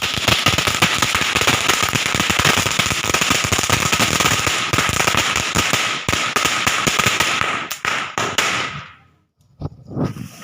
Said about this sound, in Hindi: अब वो दूर जाके फट के गिर जाएगा ना छोटू।